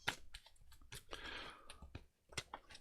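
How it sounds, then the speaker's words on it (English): Tarot cards are shuffled by hand in quick, close papery riffles and taps with a softer sliding rustle in the middle, quiet and without speech. "So, Joe, I'm just going to give the old cards a shuffle."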